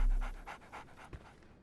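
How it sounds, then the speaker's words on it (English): A dog pants in the Sherlock Holmes The Awakened video game, with quick, rhythmic breaths repeating steadily and close, faint and alone. "So, Barnes has a dog now."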